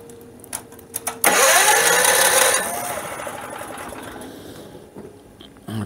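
A tri-fuel generator engine restarts under a resistive load, catching suddenly into a loud, rough running roar that gradually settles and fades somewhat as it keeps running nearby, with no talking.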